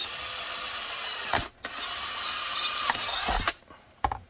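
Power drill boring a retention hole for rivets in clamped stock, a steady close whine running for several seconds with brief pauses and stops near the middle and end.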